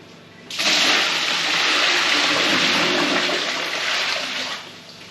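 Cold brine water pours into a 12-litre bucket over pork brisket in a loud, continuous gushing rush lasting about four seconds before tapering off.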